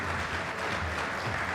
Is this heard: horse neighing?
no